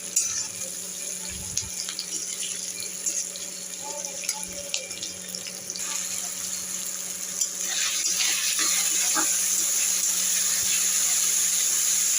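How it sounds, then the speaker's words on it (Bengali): Tilapia fish curry cooks in a pan with a steady sizzling hiss that grows louder in the second half, dotted with faint clinks and stirring sounds, with no one talking. "আগে আমি তেলাপিয়া মাছের ঝালটা বসিয়ে দিলাম"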